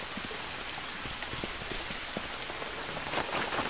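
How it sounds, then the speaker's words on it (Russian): Steady rain falls throughout in the survival game Green Hell, a dense even patter with scattered droplet hits and a brief louder swell near the end, with no voices. "Пошел дождь. Это хорошо."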